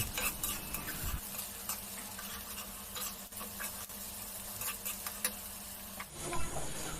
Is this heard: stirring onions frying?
yes